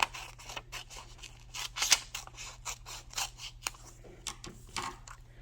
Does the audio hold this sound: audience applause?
no